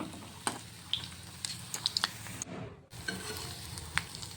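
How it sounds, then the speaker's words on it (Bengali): Bitter gourd pakoras dipped in batter frying in hot oil, a steady close sizzle broken by soft clinks and scrapes of a utensil stirring, with one brief dropout midway. "তারপরে উস্তাগুলি বেটার লাগিয়ে দিয়ে দিলাম আবার তেলের মধ্যে"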